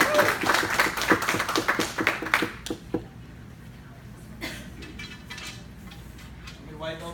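Brisk applause from a small audience at a karate belt ceremony, quick close claps that stop abruptly after about three seconds, followed by a quieter stretch with a few scattered claps and taps.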